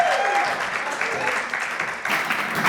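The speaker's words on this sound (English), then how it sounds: "Round of applause, please." Sustained applause from an audience at a sales leadership awards ceremony in a grand hotel ballroom, a dense, even wash of clapping with faint crowd noise beneath.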